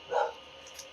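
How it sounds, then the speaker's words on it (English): A single short, muffled dog bark sounds in the background, faint and distant, followed by quiet room noise. "Sorry about the dogs barking in the background."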